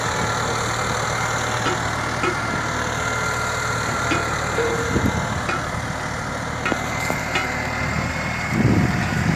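A tractor engine runs steadily in fourth gear at about 2000 rpm while pulling a harrow in a field, a continuous mid-to-low drone with a few faint clicks and knocks and no talk.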